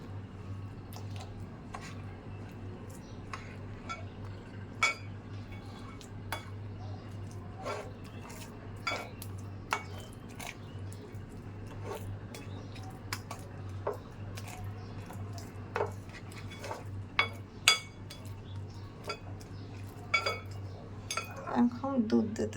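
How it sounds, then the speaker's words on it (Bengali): Egg being mixed into homemade cake batter in a bowl, with repeated light clinks and taps of a utensil against the bowl scattered irregularly over a low steady hum, growing a little busier toward the end. "এখন ডিমটা এর সঙ্গে এইভাবে মেশাতে হবে।"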